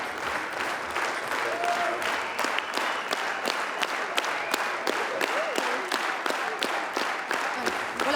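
Sustained applause from a large audience at the close of a Cannes Film Festival screening of Elia Suleiman's It Must Be Heaven, dense steady clapping with crowd murmur throughout.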